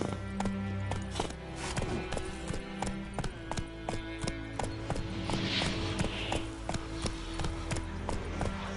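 Geralt's horse Roach gallops in The Witcher 3, with a rapid, steady stream of close hoofbeats drumming over a sustained musical and ambient game backdrop.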